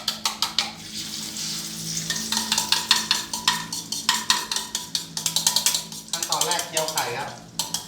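An egg fries until crispy and browned in a hot pan, its sizzle broken by repeated sharp scrapes and clacks of a spatula stirring against the metal in quick bursts.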